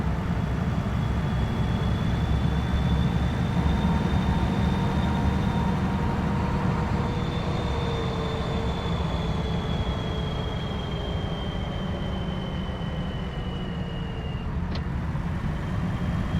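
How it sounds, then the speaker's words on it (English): A tractor engine in the farming video game Farming Simulator 25 drones in a loud, steady low rumble throughout, with a faint whining tone above it and no talk. "Love the sound of that tractor."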